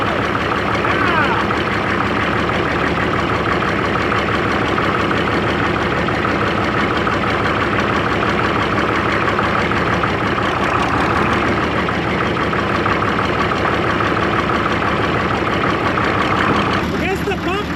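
An old abandoned CASE tractor engine runs at a steady idle, up close and loud, with a rough knocking throb that holds throughout. A voice speaks over it in places.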